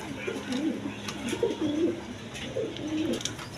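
Domestic pigeons of the Denis and Jacobin breeds, kept in pairs with eggs for sale, coo in repeated low, throaty phrases, two or three soft rolling calls close by over a faint background hiss.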